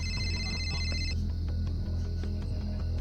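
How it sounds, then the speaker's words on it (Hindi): An electronic phone ringtone chimes in a repeating tonal pattern for about a second, then stops, leaving a low steady hum and faint clicks. "फोन बजने की आवाज।"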